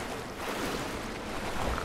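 Continuous sloshing and splashing of water as a character swims through murky sewage in the Rise of the Tomb Raider video game, a steady wash of noise without distinct strokes or pauses.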